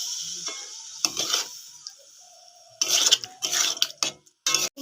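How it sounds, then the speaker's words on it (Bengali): Spices with turmeric and salt stir-fried in a pan for a prawn and vegetable curry, with bursts of scraping, sizzling and utensil clatter separated by quieter gaps. "ভালো করে দেখো কষিয়ে নেব"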